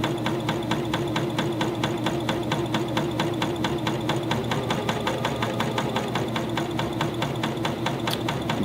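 A cover stitch sewing machine runs continuously while stitching fleece, with a fast steady mechanical chattering rhythm and a motor hum, close and constant throughout.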